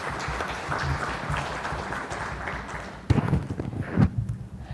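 An auditorium audience at an institute of management event applauds to welcome a speaker, a dense, moderately loud wash of clapping that swells with sharper bursts near the end.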